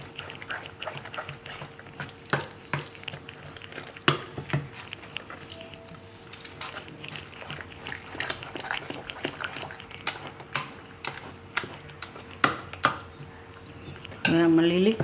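Gram flour batter with oats being mixed in a bowl for oats cheela, giving repeated soft clinks and taps of a utensil against the bowl at an irregular rhythm, close and fairly quiet, with a louder scraping stir near the end.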